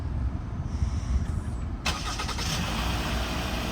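A car engine starting up after the push-start button is held down, catching abruptly partway through and settling into a steady, close idle rumble, with no talk.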